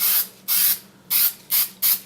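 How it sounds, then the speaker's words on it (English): A can of spray adhesive gives five short, close hissing bursts in an uneven rhythm, with brief quiet gaps between them. "I'm just going to give a little bit, just a little spray"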